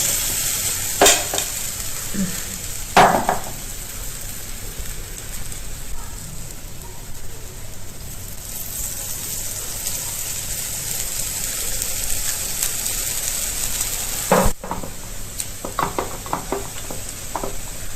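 Sweet moong dal bondas frying in oil over a low flame, a steady soft sizzle and bubbling throughout, with a few sharper clinks and stirring sounds scattered across it.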